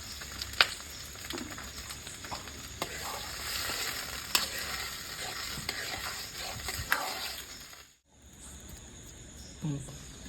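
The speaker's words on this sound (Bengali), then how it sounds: "পেঁয়াজটা হালকা ভাজা হয়ে গেছে" Lightly fried onions with green chilies and cashews sizzle in a pan while being stirred, a continuous close crackle with spoon scrapes that cuts out briefly before resuming faintly.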